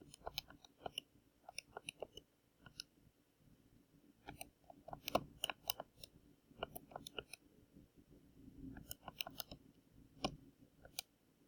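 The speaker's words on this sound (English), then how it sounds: "I want to go ahead and type this into my calculator" Fingers tapping numbers into a calculator, a quiet irregular series of small plastic clicks and taps in close succession, heard alone without talk.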